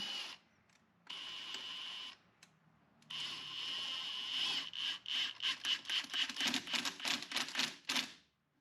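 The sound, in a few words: tightening a clamp with a 13 millimeter wrench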